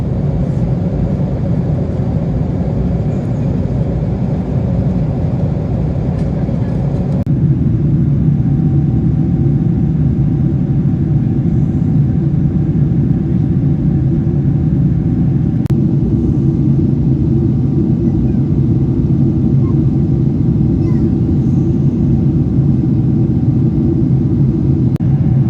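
Steady, loud cabin roar inside a Turkish Airlines Boeing 777-300ER cruising over Poland, a deep continuous engine and airflow rumble with a faint tonal hum joining partway through.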